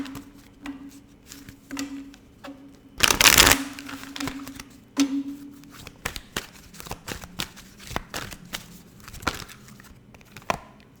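Tarot cards are shuffled close up in soft riffling bursts, with one loud flurry of rapid card flutter in the middle and scattered taps and flicks of the deck afterward.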